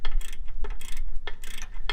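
A ratchet wrench works a bolt loose on the rear drum brake of a GM OBS Chevy or GMC truck, producing close, loud bursts of rapid metallic clicking with short gaps between strokes.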